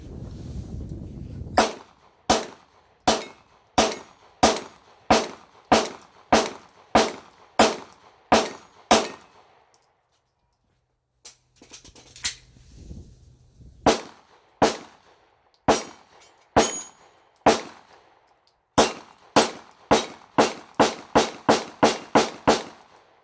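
Gunshots from a Glock 19Y hybrid pistol, a Glock 19 magazine in the longer frame: roughly two dozen sharp, loud single shots in a steady string, a short pause near the middle, then a final quicker burst, with no talking.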